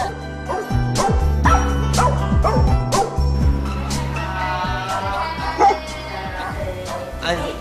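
A dog barks repeatedly in loud yips and bow-wows, close by and insistent, with some whimpering, at a pet-friendly venue where people talk over the noise.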